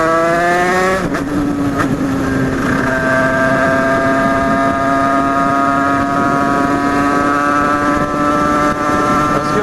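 A DRD motorcycle with a 70cc Italkit cylinder engine rises quickly to a high rev, then holds a loud, steady, buzzing two-stroke whine close by with no talk.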